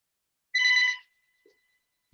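A phone rings once during a town planning board meeting, a short electronic ringtone burst of about half a second, clear and close in an otherwise quiet room.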